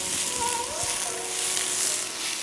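Beef sautéing in a hot pan, seasoned with black pepper and salt, gives a steady, loud sizzle and fry that fills the whole moment, with faint stirring underneath and no talking.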